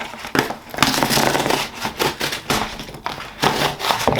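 Cardboard of a Papa John's pizza box being ripped open, a close, loud run of crinkling, tearing and crunching bursts with brief pauses between them.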